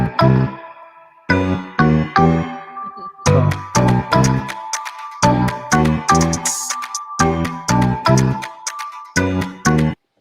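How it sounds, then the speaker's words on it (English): Bump music on a sports podcast, a loud, punchy synthesized jingle of short repeated chord stabs in a bouncy rhythm, playing alone and up front for about ten seconds. "We need the bump music."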